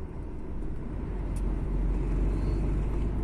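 A professional driver's truck rolls along the road with a steady, loud low rumble of engine and tyre noise that holds continuous throughout, with no voices.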